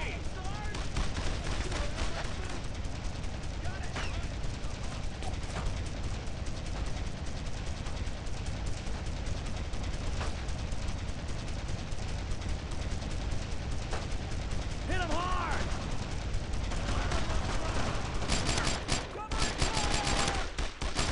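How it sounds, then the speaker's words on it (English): Sustained gunfire in the World War II shooter Brothers In Arms: Road To Hill 30, with rapid rifle and machine-gun bursts crackling almost without pause, dense and loud, and occasional heavier blasts and shouts mixed in. "Don't stop firing."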